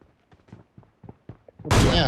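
Gunfire in a battle royale video game: a single loud burst cuts in near the end after a stretch of quiet voice chat between players.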